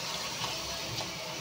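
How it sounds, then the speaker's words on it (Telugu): About a glass of water is poured into a pan of ridge gourd frying with ginger-garlic paste, a continuous close rushing splash with no talk. "ఇప్పుడైతే కొంచెం వాటర్ వేస్తున్నాను."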